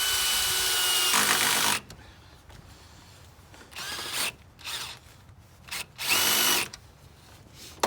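Power drill with a socket bit driving screws straight down into black plastic crates, two loud whirring runs close by separated by quieter handling noise, then several shorter bursts of drilling.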